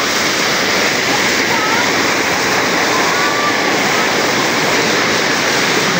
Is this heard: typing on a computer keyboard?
no